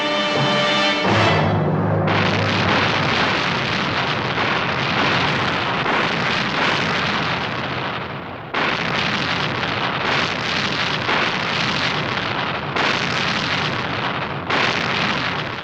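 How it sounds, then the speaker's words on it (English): Naval guns bombard the Normandy coast, a continuous thunderous roar of heavy blasts and rumbling booms, loud and dense with brief pauses between sustained barrages, no voices. "At 5:30 a.m., the naval guns were in range."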